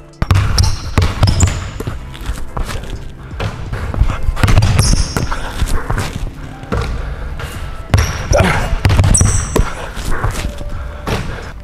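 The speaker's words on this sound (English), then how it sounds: "We're just gonna take one or a few dribbles." A basketball bounces in quick, hard dribbles on a court, loud and close, broken by short stops and squeaking shoe scuffs, with a voice speaking faintly in the background.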